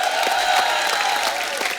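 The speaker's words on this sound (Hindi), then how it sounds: "जोरदार तालियां" Studio audience applause on a Kapil Sharma comedy show, steady clapping filling the room for the whole stretch with no talk over it.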